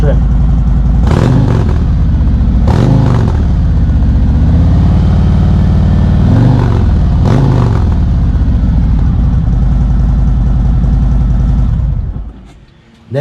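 A 2020 Harley-Davidson motorcycle with a Rinehart full exhaust system rumbles steadily up close, with several rising revs swelling over a deep idle before it cuts off near the end.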